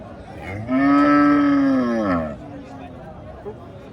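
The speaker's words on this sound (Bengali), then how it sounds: "অনেক সুন্দর একটি গরু আপনারা দেখতে পাচ্ছেন" A Sahiwal cow at a livestock market for Qurbani gives one loud, drawn-out moo lasting over a second, close by, over a low bed of crowd murmur.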